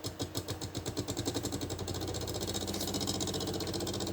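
A homemade plastic filament extruder's motor runs steadily, loud and close, with a rough, pulsing mechanical drone like a motorbike engine ticking over, with no talk.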